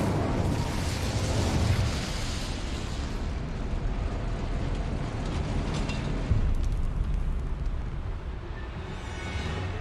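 Incendio fire spell in a Harry Potter game, a dense roaring burst of flame that keeps rumbling and crackling steadily for about ten seconds, loud and broadband, with a brief swell near the middle.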